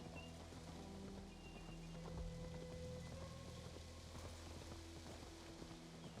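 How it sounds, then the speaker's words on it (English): Horse hooves clip-clopping in Assassin's Creed Valhalla, a faint, fairly distant rhythmic trot set against a rain-like background wash and low sustained game ambience, with no speech. "Horse in the way."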